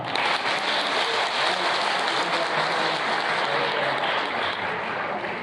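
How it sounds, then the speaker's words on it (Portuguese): A church congregation claps steadily in welcome of a visiting pastor, a continuous wash of many hands at moderate level from start to finish. "Todos os irmãos aqui com uma salva de palmas?"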